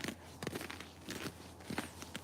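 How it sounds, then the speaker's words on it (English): Footsteps crunch on frozen ice, snow and frosted grass in spring in Alaska, several uneven close steps at a slow walking pace, faint and alone. "So I can feel that crunchy every time I walk, that crunchy ice."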